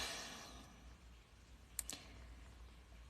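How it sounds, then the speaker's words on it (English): Brief clicks of typing on a keyboard, two sharp taps close together near the end after a stretch of faint background hiss. "You like the typing."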